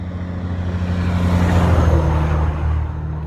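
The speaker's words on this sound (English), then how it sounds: "I've got a big ass truck coming through here in just a moment" A big truck passes along a roadside where a hitchhiker stands, heard as a deep engine rumble swelling to a loud rushing peak near the middle, then easing away.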